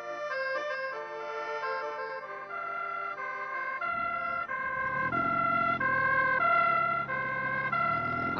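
Police siren wailing in a steady two-tone pattern, loud and close, with a low road rumble coming in partway through and no talk over it.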